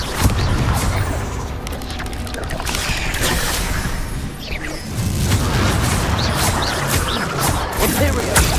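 Bombarda spell explosions in Hogwarts Legacy, a dense barrage of loud, booming blasts and crashing debris rolling continuously with almost no pause, with a brief dip midway before the bursts resume.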